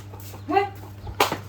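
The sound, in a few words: chickens clucking, being chased from the house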